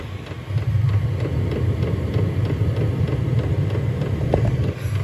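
A WIPPRO diesel heater runs with a steady low hum, and a faint regular clicking ticks along beneath it.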